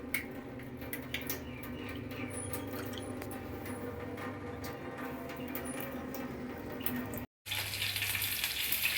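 Tap water runs steadily to fill water balloons, a continuous hissing flow heard close up with no speech. It cuts out briefly near the end, then returns brighter.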